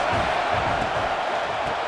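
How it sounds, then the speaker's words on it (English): A stadium crowd in an American football video game roars, a dense and steady wall of loud cheering and shouting that holds without a break. "This crowd trying to make life miserable for this offense."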